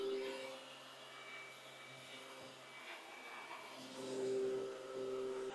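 A UWANT V500 stick vacuum running on boost mode over floors, giving a steady motor whine with a faint tonal hum that rises briefly louder near the end, heard alone without talk.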